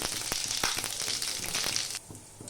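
Mustard seeds and cumin sizzle and crackle loudly in hot oil for a Tamil keerai poriyal, with sharp pops over steady frying hiss, the sizzle dropping suddenly near the end.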